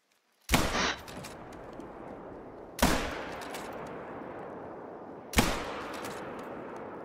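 Three loud rifle gunshots during a white-tail deer hunt, evenly spaced about two and a half seconds apart, each sharp crack trailing into a long echoing rumble across open ground.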